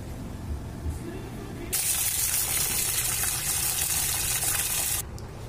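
Water gushes from a tap over mung beans set out for soaking, a loud steady pour lasting about three seconds that starts and stops abruptly, with quieter background noise before and after.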